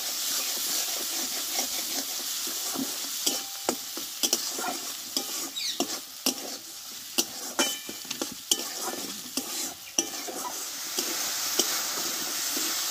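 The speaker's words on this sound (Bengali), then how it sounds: "এই মশলাটা একটু ভালোভাবে কষে নেব।" Spice masala with Kashmiri chili powder and sugar sautéing in a pan, a continuous bright sizzle and hiss broken by repeated scraping and knocking of a spoon as it is stirred, close and steady with no talking.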